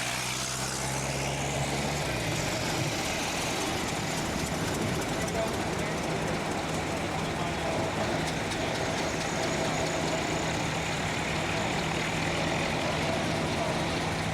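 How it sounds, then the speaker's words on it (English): Antique automobiles, including a 1904 Oldsmobile and a 1911 Ford T Torpedo, rumble forward with steady engine drone and broadband noise throughout, a lower idle at the start shifting as they move, with voices talking over it. "Let's talk about some of the cars as they are brought forward here."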